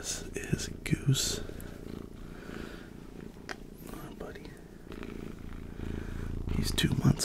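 Close, continuous low purring from a two-month-old kitten, steady throughout, with soft whispering and light rustling and scratching mixed in.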